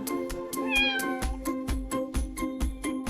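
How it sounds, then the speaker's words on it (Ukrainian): A cat meows a few times over a bouncy, steady music beat, the meows clear and close. "Котик каже мяу-мяу."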